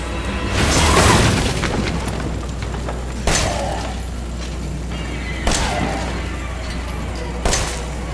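A 1911 pistol fires in the Resident Evil 7 video game, delivering four muffled, fairly quiet booming shots spaced about two seconds apart over a low background hum.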